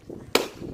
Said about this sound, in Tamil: பலூன் வெடிக்க போறோம்